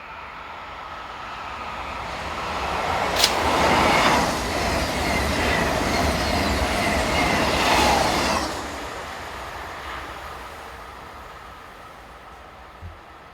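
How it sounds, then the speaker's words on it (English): A Thalys TGV high-speed train on the Paris to Amsterdam service passes by, its steady rushing roar rising over several seconds, holding loud, then fading away into quiet background. "This is the 1525 from Paris to Amsterdam, formed by Thalys TGV unit number 4539."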